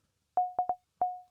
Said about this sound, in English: all we've got is a high frequency sine wave